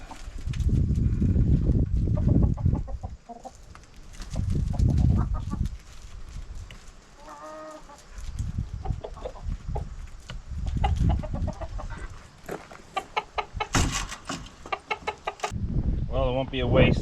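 Chickens clucking and squawking as they peck at scraps of chub fish, with bursts of close, busy clucking, a few sharp calls and background rustling, and someone talking at times between them.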